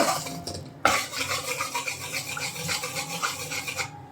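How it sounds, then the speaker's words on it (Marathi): A spoon stirs wheat flour roasting in ghee in a pan, a steady scraping rasp that continues without a break after a short pause near the start, close and moderately loud, with no talking. "याला असं सतत ढवळायचं आहे त्याला छान ब्राऊन कलर येईपर्यंत"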